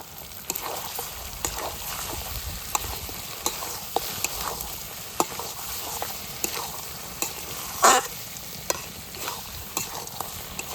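Mutton being fried with turmeric and chili powder, a steady sizzle in oil with repeated sharp spoon scrapes against the pan and one louder clatter, close and alone without speech.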